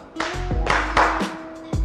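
Audience in Lombok claps in sparse, separate bursts during a clap-count ice-breaking game run by an MC, a few uneven claps spread over a couple of seconds, with a steady tone running underneath.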